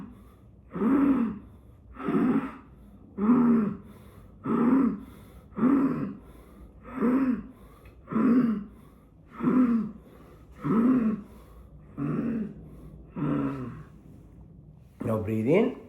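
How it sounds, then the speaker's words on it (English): Yogic crow breath: about a dozen evenly spaced, raspy inhalations drawn through pursed lips, each a short, close, rough hiss with a pause between, no other sound around them. "If you can breathe like a crow, make a sound."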